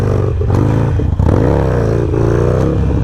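A Harley-Davidson Sportster engine rumbles loud and close, its deep throaty idle rising briefly into a rev before settling back.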